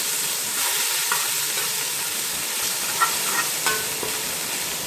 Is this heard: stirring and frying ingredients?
yes